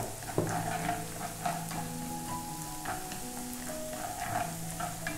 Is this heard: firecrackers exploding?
no